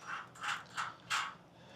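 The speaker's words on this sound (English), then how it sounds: "what I'm going to do is what's known as the jam nut method, which is I put 2 regular nuts on" Nuts are threaded onto a bolt with the jam nut method while adding a wheel chock to a motorcycle trailer, giving four quiet metallic scraping turns at a near, even rhythm, with no voices.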